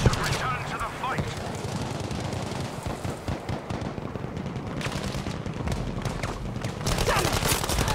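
Enemy machine gun fire in Battlefield V, dense rapid rattling bursts and explosions filling the scene, loud and continuous with battlefield chaos and voices mixed in.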